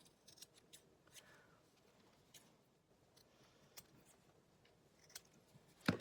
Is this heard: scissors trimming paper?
yes